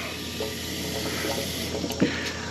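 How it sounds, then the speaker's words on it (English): A steady, close hiss of water flows through a camper's city water inlet at a full hookup site, with a few small splashes and clicks over the rushing stream. "First time ever I'm using the freshwater city water inlet on the plumbing system."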